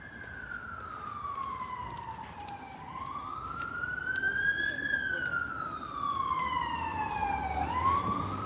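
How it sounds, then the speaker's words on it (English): Police sirens wail along a street in central Warsaw, a loud rising and falling tone sweeping up and down over steady city traffic noise, continuing throughout without anyone speaking. "More sirens, more police."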